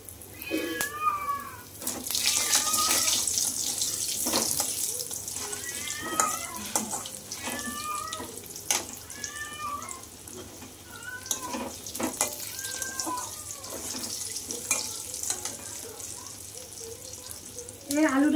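Potatoes fry in a pan with oil and whole spices for a fish curry with potatoes, a soft continuous sizzle with scattered clicks and stirring clatter, while a cat meows repeatedly nearby.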